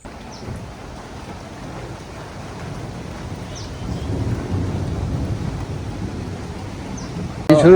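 A storm in rural village farmland with wind buffeting the microphone and a low rumble of thunder swelling midway, with steady rain-like hiss beneath, no talk heard.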